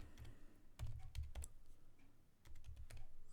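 Someone types on a computer keyboard in short, soft bursts of clicking keys, close but faint, with brief pauses between them.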